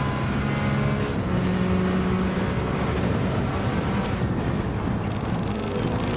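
A Peugeot hypercar engine in Gran Turismo 7 drones loudly and steadily as the car drives, with a sustained roaring tone that shifts pitch slightly mid-run, alone without talk.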